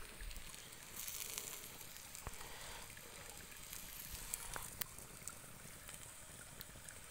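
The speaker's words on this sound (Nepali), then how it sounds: "आगो नि दामी बलिरहेको" Faint crackling wood fire burning while sekuwa meat is roasted over stones in a village setting, soft hiss with scattered sharp pops, no talking.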